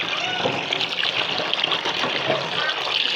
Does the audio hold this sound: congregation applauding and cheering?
no